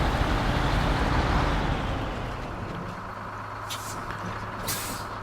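A truck in the SnowRunner video game comes to a stop, its engine rumble loud at first and then easing to a steady low idle, with a couple of brief hissing bursts near the end.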